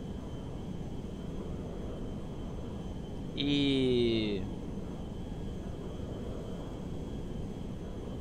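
A large, oddly shaped airplane flying low in the video game GTA 5 produces a steady broadband engine roar throughout, with a brief voice cutting in over it midway.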